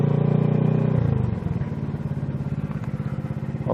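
A nearby motorcycle engine runs in a canyon, a heavy rumbling throb that drops in pitch about a second in and then settles into a steady rapid pulse, with a brief rise right at the end.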